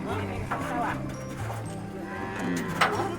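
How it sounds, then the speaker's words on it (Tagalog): Goats at a livestock stockyard being unloaded from a small truck, several overlapping bleats over constant crowd chatter and general yard noise, with people talking nearby throughout. "Puro kambing ang kanyang karga nitong isang maliit na truck"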